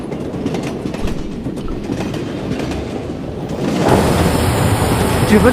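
A train rumbles along rails with rhythmic clickety-clack and steady rolling roar in Broken Sword: Reforged, growing louder and harsher partway through.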